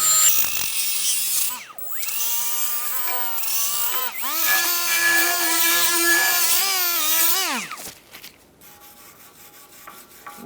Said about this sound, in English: Use a wire brush.